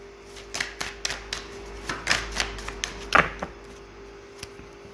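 Tarot cards drawn and laid down one after another, a quick series of light taps and flicks close by, about a dozen in under five seconds, over a faint steady hum.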